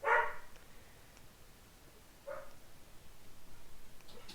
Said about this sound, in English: My dog's freaking out again.